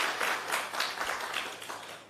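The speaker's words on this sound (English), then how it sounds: "Can we give them another round of applause, please?" An audience at a national health research conference applauds two presenters, a brief burst of scattered clapping in a room with no talking over it.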